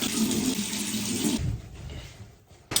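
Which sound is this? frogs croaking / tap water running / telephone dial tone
tap water running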